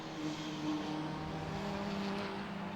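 BMW race cars at Brands Hatch: a steady, continuous engine drone with sustained tonal whine and no clear rise or fall, like cars circling at speed in the distance.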